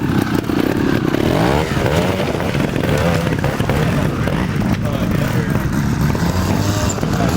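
A trials motorcycle riding the clubman course at the Bassenthwaite Club's D.K. Laing trial, its engine buzzing and revving steadily up close, with some clatter and scraping over rough ground.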